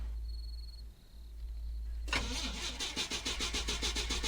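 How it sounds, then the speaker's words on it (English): In a video game, a car stranded in the woods fails to start. A quiet stretch with a faint whine gives way to a sudden, loud burst of rhythmic starter cranking that keeps churning without catching. "Looks like our car doesn't really want to start."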